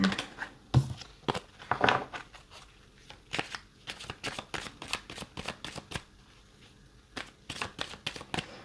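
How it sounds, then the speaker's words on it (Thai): Tarot cards shuffled by hand at close range, giving a run of crisp, papery riffling bursts with short pauses between them and no talking. "จะเปิดไพ่เพิ่มให้นะคะ"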